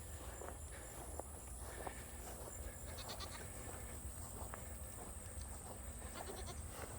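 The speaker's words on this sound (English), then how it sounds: "There's my goat herd." Goats in a goat pen bleat faintly in the distance over a steady outdoor hiss, with occasional soft footsteps or shuffling nearby.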